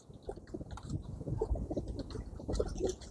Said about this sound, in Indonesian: setelah tadi aku kasih makan burung